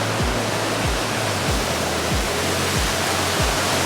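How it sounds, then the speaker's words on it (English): A real waterfall in Los Angeles, swollen by winter rain, roars as a steady, dense wash of falling water heard close up, with no voices. "this is a real waterfall"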